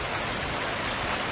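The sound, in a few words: rain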